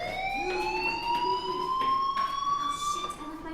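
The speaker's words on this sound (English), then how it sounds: "Hey, do you hear that fire alarm?" A fire alarm in the video game Life is Strange rings steadily throughout, a continuous electronic tone with a slowly rising pitch, fairly loud and alone with no talk.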